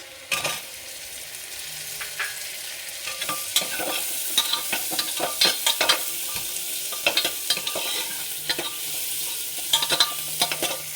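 Onions sizzling in hot oil in a pan for a chicken stew, with a steady fry hiss and repeated scraping stirs of a spoon against the pan, close up and continuous, no voices.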